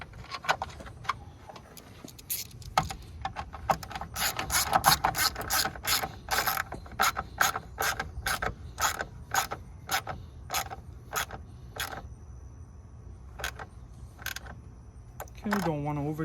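A ratchet clicks in fast bursts of rapid ticks while a screw is tightened on a Mercedes Sprinter coolant tank, with pauses between runs and a few slower single clicks near the end, close up and with no talk.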